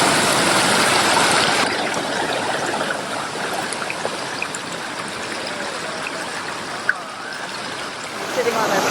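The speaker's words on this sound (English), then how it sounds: "It's a picture-perfect waterfall." A picture-perfect waterfall in Maine gives a steady broadband rush of falling water, loud and close. The roar stays even throughout, with a faint click or two above it.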